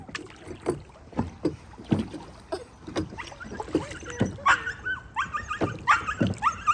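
A dog chasing ducks outdoors lets out a rapid series of sharp, loud barks mixed with whiny yelps, coming in irregular bursts close by.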